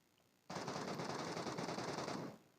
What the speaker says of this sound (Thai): เบอร์สามยิงใครอ่ะ